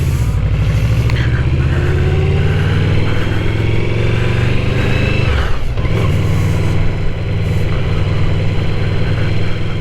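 A 2020 second-generation Yamaha VMAX 1700cc V4 muscle bike running on a Texas highway loop, its deep engine drone steady and loud throughout with a brief dip midway, no talking.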